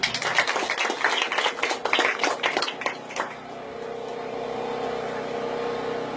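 A church congregation of the Assemblée des Saints in Latortue claps together, dense rapid clapping for about three seconds, then fading into a sustained crowd murmur and hum.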